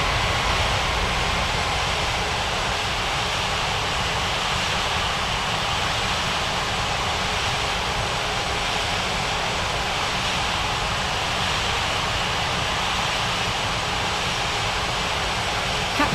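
An Oman Air airliner taking off from runway 17 left in an air traffic control video game, heard as a steady, loud, broadband engine roar that holds unchanged throughout.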